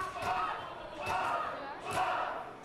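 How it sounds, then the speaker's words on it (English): Crowd at a women's independent wrestling show in 2019 cheers and shouts steadily through the whole span, swelling in three waves with sharp bursts of yelling, loud and close, with no commentary over it. "And the crowd getting behind Puff"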